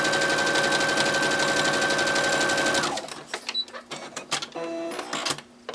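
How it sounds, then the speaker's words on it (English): A home sewing machine runs steadily, stitching a bat plush's wing onto its body, then stops about halfway through, leaving scattered handling clicks and rustles. "And then you just sew around to attach the wing to the body."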